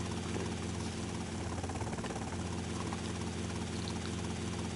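Helicopter rotor and engine drone from GTA Vice City Definitive Edition, a dense steady whirring hum that holds at an even level throughout with no talk.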